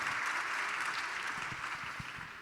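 A crowd at a talk on vaccination and youth applauds, steady clapping that holds for a couple of seconds and slowly eases off, with no one speaking.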